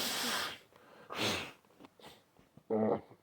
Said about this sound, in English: Give me 1 second and I'll blow my nose.